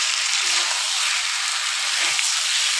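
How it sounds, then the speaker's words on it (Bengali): Chicken cooked down in oil in a pan for a gravy, sizzling and frying with a steady bright hiss, close and constant, with faint stirring at a couple of points. "মাংসটা আমার কষানো হয়ে গেছে, তেল ছেড়ে দিয়েছে"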